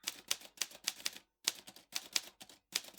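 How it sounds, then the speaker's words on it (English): Rapid typewriter keystrokes tapped out in quick bursts with short pauses between, close and crisp, no voices. "Typing."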